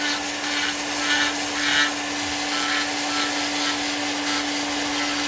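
A power tool grinds steadily against wood while a wooden football-shaped charcuterie board is being carved, a continuous close whirring with a constant hum and gentle rises as it shapes the surface.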